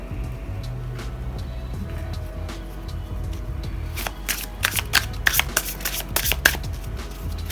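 Tarot cards shuffled by hand in a quiet room, a soft steady riffle for several seconds that breaks into a burst of crisp, clustered card snaps and slaps toward the end.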